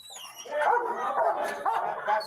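Police dogs bark and yelp in played-back footage of an eviction turned extraction, a steady stretch of dog barking and whimpering that fills the whole moment, fairly loud and continuous.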